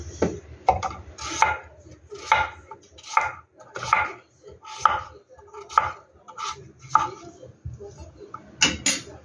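A knife chopping kalabasa squash on a board, steady rhythmic chops about one per second, close and clear, with faint background sounds between strokes.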